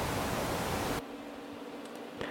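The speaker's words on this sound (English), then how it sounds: "That's what pink noise sounds like." Steady broadband pink noise generated in Audacity, a dense even hiss running loud for about a second before dropping to a quieter, thinner noise bed.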